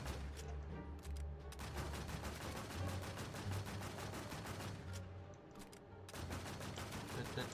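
Sustained gunfire in Warz Infestation, rapid automatic bursts firing almost continuously with a couple of brief pauses, fairly quiet overall.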